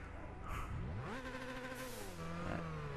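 An Opel Corsa's engine revs in Gran Turismo 6, with rising and falling harmonic whine as the revs climb and then drop, clear and close, with no talking.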